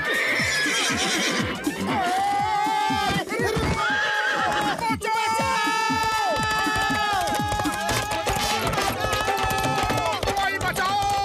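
A cartoon horse whinnies repeatedly over clip-clopping hooves amid busy music and effects, loud and continuous, with voices speaking in between.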